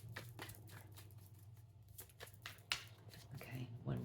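A deck of tarot cards is shuffled in quick riffling bursts, soft and close, with a few sharper flicks, over a low background hum.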